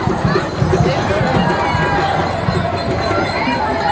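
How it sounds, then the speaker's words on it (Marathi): Dense crowd at a Ganesh immersion procession, a steady murmur of many voices and shouting with shuffling movement, close and continuous, with a voice talking over it. "गर्दी बघा केवढी आहे गर्दी"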